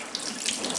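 Hot water runs steadily from a kitchen tap in a Tuscan home, a close, even hiss and splash with no voices over it.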